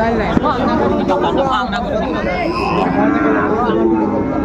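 Cattle, including Shahiwal bulls, moo at a busy livestock market in Parbatipur, Dinajpur, with drawn-out lowing calls over a constant background of crowd chatter and people talking.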